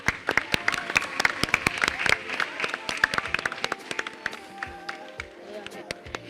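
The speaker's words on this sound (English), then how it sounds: "Can we clap until she arrives on stage" Sustained crowd applause at a Year 6 graduation ceremony with dense, sharp claps, loud and close, continuing steadily throughout with a few voices mixed in.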